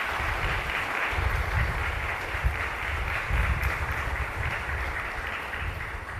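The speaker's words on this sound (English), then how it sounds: "give the teachers a well-deserved round of applause" Graduates of the class of 2022 at a school graduation applaud their teachers, a continuous, moderately loud spread of clapping from many hands with a low rumble underneath and no clear voices.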